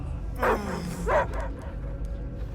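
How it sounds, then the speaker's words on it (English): A dog barks twice in Marvel's Guardians of the Galaxy video game, two loud close yelping barks over a low ambient game drone. "I hear only barking"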